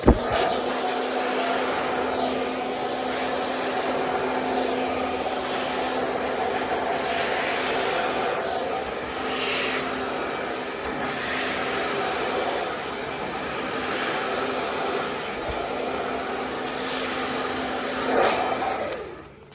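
Hair dryer blowing steadily and close while short curly hair is brushed smooth in a wrap blow-dry, a continuous whooshing roar with slight shifts in pitch as it moves.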